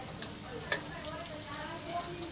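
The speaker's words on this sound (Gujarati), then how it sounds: "અડધી ચમચી જેટલું જીરું એડ કરી લઈશું જીરું આપણું થોડુંક સંતળાઈ જાય" Steady crackling sizzle of cumin seeds frying in hot oil, continuous and close, with a brief sharper pop partway through.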